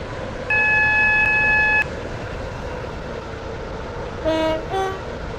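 Metro train in the Stepford County Railway game: a sustained two-tone electronic beep or horn rings out over the steady hum of the train, followed later by a short warbling chime sequence.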